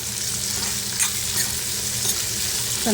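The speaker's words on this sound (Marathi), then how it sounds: "कांदा व्यवस्थित आपल्याला परतून घ्यायचा आहे" Finely chopped onion frying in a pan, giving a loud continuous sizzle with a few soft scrapes of the spoon as it is stirred.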